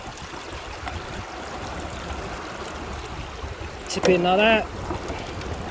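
River water rushes steadily through a gold sluice as material is washed out, a continuous outdoor stream wash with a brief louder splash near the end and a voice speaking over it.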